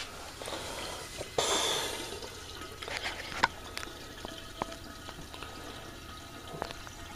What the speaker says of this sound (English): So here I am racking.